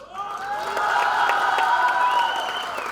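Audience clapping at a recognition programme in Rourkela, a steady, fairly close wash of applause with faint cheering mixed in, holding across the whole stretch.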